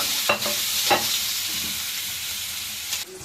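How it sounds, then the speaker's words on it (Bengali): Potatoes frying in a pan for a tilapia fish bhuna curry give a steady, close broadband sizzle, with a few brief stirring scrapes and clinks breaking through. "আলুগুলো মাছের মতো করে ভেজে নিচ্ছি"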